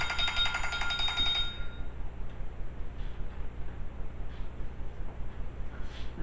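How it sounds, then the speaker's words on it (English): A kitchen timer alarm rings with a rapid, bright electronic beeping for about a second and a half, then stops, leaving faint ticking and room noise behind it. "That was the timer."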